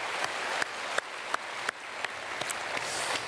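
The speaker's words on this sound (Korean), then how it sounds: "박수하겠습니다." A church congregation gives quiet applause during a Sunday worship service, a soft, diffuse patter of clapping from a distance with a few sharper claps standing out every half second or so.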